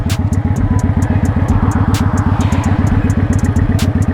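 A motorcycle cruising on the road, its engine droning in a fast, steady rhythmic pulse with rushing wind noise, loud and close throughout with no talking.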